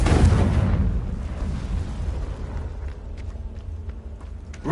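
A Confringo spell explosion in Hogwarts Legacy opens with a loud, heavy boom that fades into a long rumbling tail, followed by faint scattered footsteps and small taps.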